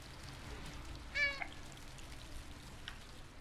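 A cat laps water in the video game Stray, a short quiet burst of drinking sounds rising briefly over a faint, steady game ambience.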